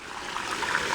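Water gushing steadily from a pool filter backwash hose as the pump runs, a continuous broadband rushing and splashing close by with no talk.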